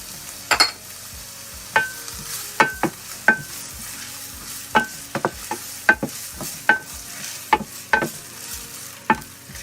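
Chopped onions seasoned with salt and pepper sautéing in a pan for a salsa ranchera, with a steady soft sizzle punctuated by frequent sharp clinks and scrapes of a utensil stirring, close and moderately loud, no talking.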